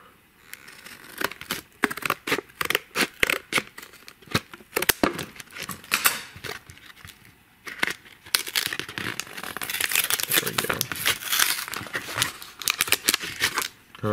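Close, crisp crinkling and snipping as scissors cut across the top of a sealed Pokemon booster blister pack, with irregular bursts of plastic crackle and tearing that build into a denser stretch of rustling.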